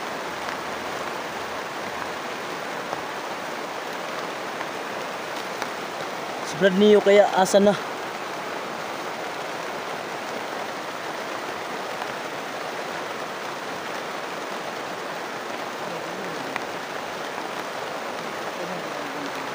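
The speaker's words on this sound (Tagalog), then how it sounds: "Grabe, napakalakas talaga ng ulan." Heavy rain pours in a steady, dense hiss throughout, with a short stretch of speech partway through.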